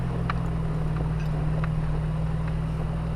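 A Jeep Wrangler with a swapped Gen 4 V8 engine driving in second gear, giving a steady, loud low-pitched drone that holds constant throughout with no talking.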